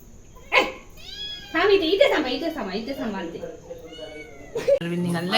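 Several cats meow close by in overlapping, rising cries, with a person talking over them.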